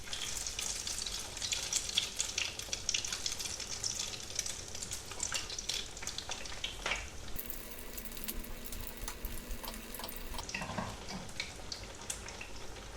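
Breaded zucchini slices fry in a pan of hot oil, a steady crackling sizzle with scattered pops running throughout, close and uninterrupted.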